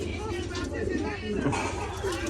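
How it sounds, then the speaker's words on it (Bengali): A red koka pigeon cooing in a repeated low rhythmic burble, close by, with other pigeons and a voice talking over it. "রেড কালারের কোকা ডাকটা তো আপনারা শুনে নিয়েছেন কিরম কুক কুক করছে"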